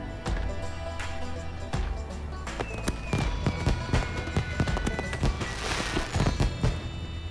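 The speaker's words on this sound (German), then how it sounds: "Schon nice aus, wie das da alles explodiert und die Flammen sehen gut aus." Explosions in the video game Far Cry 5 burst repeatedly in quick, irregular succession, sharp booms and crackles with some whistling debris, loud and dense, like a chain of fireworks going off.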